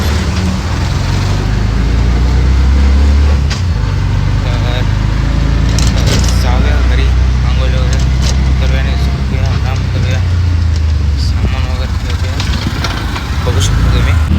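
Auto rickshaw engine chugs steadily through traffic, with a loud low rumble, road noise and passing vehicles throughout, and people talking over it.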